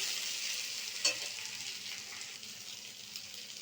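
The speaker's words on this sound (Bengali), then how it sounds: "এরকম ভাবে নেড়ে চেড়ে লাল লাল করে ভেজে নেব আলুগুলো" Potatoes sizzling in a pan and being stirred, a steady hiss of frying oil with one clear scrape or clink early on, quiet and close without any voices.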